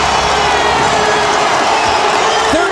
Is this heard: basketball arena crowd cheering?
yes